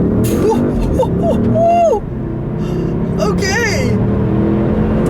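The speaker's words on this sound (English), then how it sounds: "it pulls pretty quick, so we're dealing with a 4-liter twin-turbo V8 engine" A 2013 Audi S6 with a 4-liter twin-turbo V8 pulls hard in first gear, a loud steady engine drone heard from inside the car, with brief talk over it.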